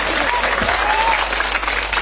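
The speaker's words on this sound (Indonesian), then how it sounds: "Tepuk tangan deui atuh." Audience applause at a Sundanese-language Islamic sermon, a dense wash of clapping from a crowd lasting about two seconds, steady and fairly loud with no pauses.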